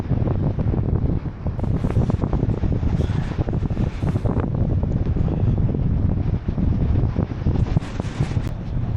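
Strong cold wind at a beach roars and buffets the microphone in continuous heavy gusts, with surf and a few distant ships nearby, and no voices.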